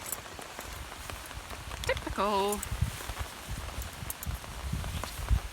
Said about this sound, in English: And now it is piddling with flipping rain.